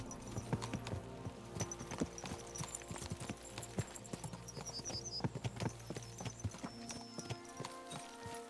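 Horses trotting in the video game Kingdom Come Deliverance 2, a steady rapid clip-clop of hooves with creaking tack and occasional snorts, fairly close and continuous.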